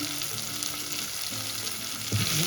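Baby bitter gourd roasts in hot oil in a pan, giving a steady close sizzle with faint stirring scrapes and a slightly louder burst of frying near the end.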